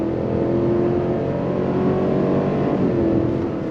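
A 2022 Cadillac Escalade engine pulls hard on throttle, a loud, steady, close-up roar with a gradually rising tone and no talk over it.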